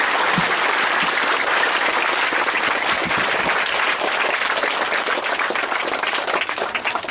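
A large audience bursts into sustained, dense applause for a teacher who provides free schooling to poor children, a loud steady wash of many hands clapping that tapers slightly at the end.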